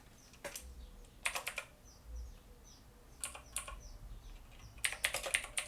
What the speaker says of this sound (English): is that you typing, James?